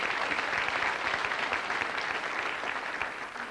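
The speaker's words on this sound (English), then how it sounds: "Give them a round of applause." Audience at a county college event applauding board of trustees members, steady dense clapping throughout that tapers slightly at the end.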